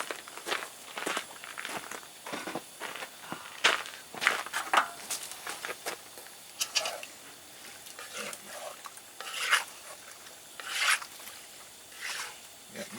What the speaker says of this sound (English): Yeah, mix all this together